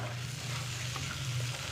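Cubed potato and tomato with spices sauté in a pan for a potato curry, a continuous moderate sizzle with a low steady hum beneath and no voices.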